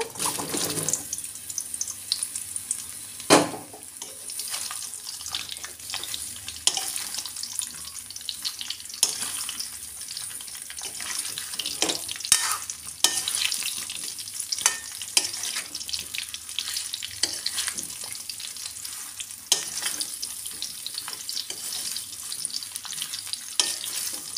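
Mango pieces fry in a hot spice tempering, a constant sizzle broken by sharp clicks and knocks of stirring.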